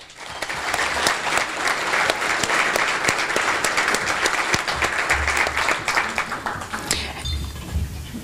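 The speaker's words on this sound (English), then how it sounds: "Please join me in welcoming these new members with a round of applause." A chamber of commerce meeting crowd gives a round of applause for new members, with loud, sustained, even clapping running the whole time and tapering slightly at the end.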